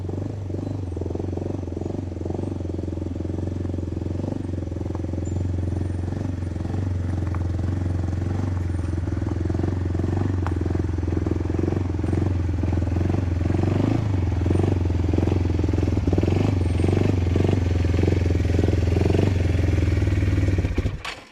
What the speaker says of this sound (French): Ce que je fais, c'est que j'avance le quad et puis on se retrouve pour charger.